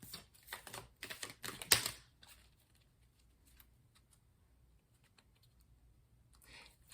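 Angel Answers Oracle card deck shuffled by hand, a quick burst of crisp riffling clicks and flutters near the start, then near quiet with a faint further shuffle at the end.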